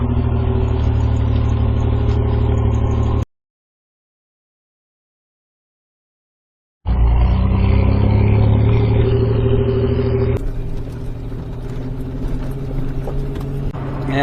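Pontiac Fiero GT engine idling with an exhaust leak, a steady close rumble interrupted by a few seconds of silence, then continuing with a rougher, hissier character.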